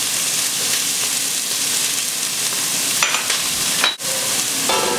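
Onion and shallots sizzle loudly in olive oil in a pan for seafood soup, a steady, close frying hiss that carries on unbroken, with a brief stir or clatter near the end.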